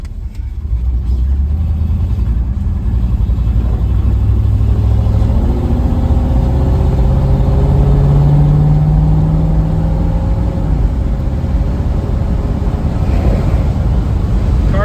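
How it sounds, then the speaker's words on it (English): A 1957 Ford Thunderbird E-bird with a rotisserie restoration drives along, its engine a steady, loud low rumble with a rising mid-pitched tone partway through as it accelerates, no talking over it. "car sure drives nice."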